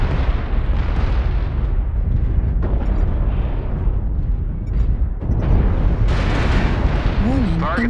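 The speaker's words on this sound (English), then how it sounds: "Warning, incoming missile." Missile impacts and explosions in the MechWarrior Online mech combat game, a dense, loud, continuous rumble of blasts and booms with a synthetic warning voice speaking over the battle.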